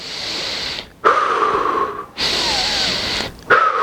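Controlled recovery breathing during a CrossFit workout, with heavy, deliberate breaths close to the mic. Each long, forceful exhale is separated by a short pause, in a steady rhythm and with no talking.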